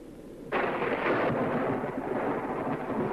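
Thunder before rain: a deep, broad rumble swells suddenly and rolls on steadily, loud and sustained, close overhead.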